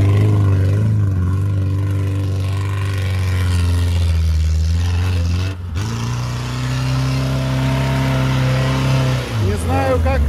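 Lada Niva engine droning steadily under load while driving, a loud, continuous, close hum that dips briefly and then climbs again as the revs rise.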